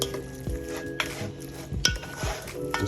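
Chicken with curry powder being stirred in a pan, a spoon scraping and clanking against the pan over a low sizzle, with a few sharper knocks, close by and with no talking.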